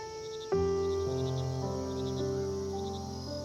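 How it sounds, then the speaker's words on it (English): Crickets chirp in tall grass at night, faint repeating trilled bursts high above a steady, slowly shifting ambient music drone that dominates the scene. "The only sound is the gentle chirping of crickets in the tall grass"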